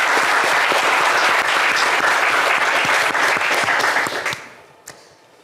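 A television game-show studio audience applauds loudly and steadily, a dense wash of clapping that fades out near the end.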